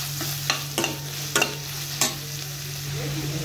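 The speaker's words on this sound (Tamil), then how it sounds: "வெங்காயம் நல்லா வதங்கிட்டு நல்லா வதக்கி விடுங்க." Chopped onions sautéing in oil in a pan for capsicum rice, a steady sizzle broken by several sharp scraping stirs of a spatula, close and clear.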